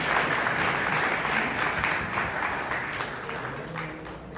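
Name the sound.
audience applause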